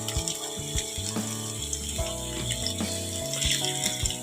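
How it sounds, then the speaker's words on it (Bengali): Water poured into a pan of fish curry, a steady splashing flow running throughout, close and moderately loud, over a faint tonal hum. "দেখো বন্ধুরা এবারে জল দিব"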